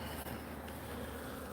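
Honey bees buzz around an opened hive during a colony inspection, a continuous low droning hum close by with no pauses.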